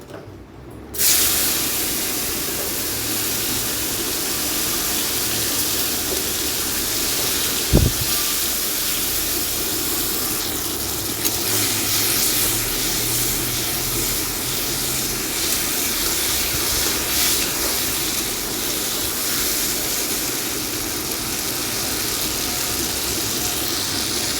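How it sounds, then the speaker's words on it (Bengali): Okra frying in hot oil gives a constant, loud, close sizzling hiss that carries on unbroken, with one brief clatter partway through and no voices. "এবারে এই ঢ্যাঁড়সগুলোকেও ভেজে নেব।"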